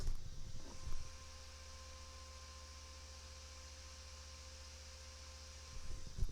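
A small cooling fan for a GMRS two-way radio repeater runs steadily nearby, a constant low hum and soft airy whoosh, faint and unchanging, with brief handling noises at the start and end.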